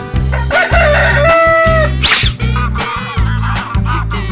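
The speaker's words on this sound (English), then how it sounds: "rooster" A rooster crows loudly over a bouncy, steady musical backing in a children's animal sound piece, with a drawn-out crow and a few shorter calls across about four seconds.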